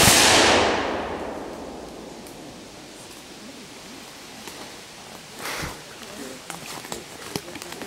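A militia musket volley fired together at a graveside salute, heard as one loud sharp blast at the very start that fades into a long outdoor decay, with faint movement and small knocks afterward.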